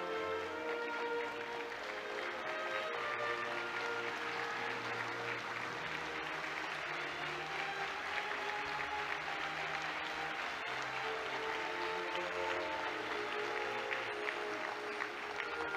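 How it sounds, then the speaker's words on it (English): Sustained audience applause at an ASEAN foreign ministers meeting in 2017, a steady, dense wash of many hands clapping in a large hall, continuing evenly throughout. "Please give a warm round of applause for the former ASEAN Secretary Generals"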